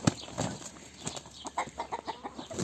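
A very old rooster makes faint clucking sounds in a short, uneven series, close by at low volume amid quiet outdoor farmyard noise.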